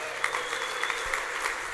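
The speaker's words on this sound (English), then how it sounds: "round of applause for writing this beautiful song" An audience applauds a choir at a leadership conference, steady sustained clapping from a large room that carries on evenly throughout, with no speech over it.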